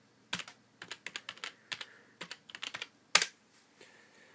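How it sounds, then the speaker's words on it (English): A password typed on a computer keyboard, a quick run of about fifteen close, crisp key taps with a louder final keystroke, then quiet. "so I'm just going to type my password in"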